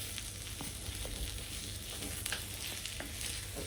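Garlic chicken roast pieces sautéing in hot oil for spicy garlic chicken roast, a steady close sizzle with occasional soft scrapes of stirring, no voices.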